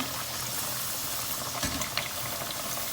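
Pork frying in a pan for Thai-style fish-sauce fried pork, giving a steady, dense sizzle and crackle of hot oil that holds evenly throughout with a few brief pops, no voices over it.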